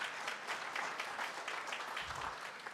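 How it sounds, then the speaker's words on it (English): Audience applause for city staff at a small business summit, a steady wash of many hands clapping throughout, fairly even in level with no talk over it. "Let's give them a big round of applause for organizing this."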